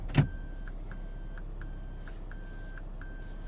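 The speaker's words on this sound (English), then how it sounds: "when you put yourself in reverse, it emits a nasty beeping sound like when a truck is backing up" A 2021 Toyota Prius 2020 Edition in reverse gear sounds its warning chime: a steady series of bright, evenly spaced electronic beeps about once a second, opening with a brief low thump.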